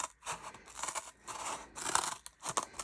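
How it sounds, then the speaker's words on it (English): Scissors snip through paper scraps while a Christmas gift tag is trimmed, giving a run of close, crisp cuts and rustles that come in uneven bursts with short pauses between them. "I'm going to take that piece over here and cut there."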